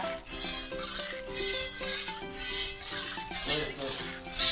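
A knife blade scrapes against a sharpening stone in repeated rasping strokes, roughly one per second, with a melody playing in the background.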